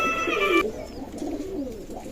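Pigeons in a loft give soft, low cooing calls close by. A brief higher chirping comes at the start.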